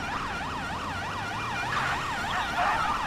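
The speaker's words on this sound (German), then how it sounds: "Macht eure Sirenen aus." Wailing emergency vehicle sirens in a police-themed video game, a rapid rising-and-falling electronic wail repeating steadily and loudly throughout, with a faint low engine hum underneath.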